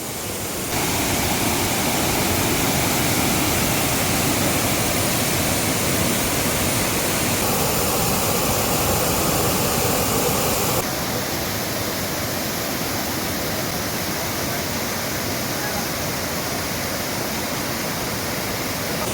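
Water rushing from Areekal waterfalls in Piravom, a dense, loud, continuous roar that fills the whole stretch without pause, its character shifting slightly partway through as the listening position changes.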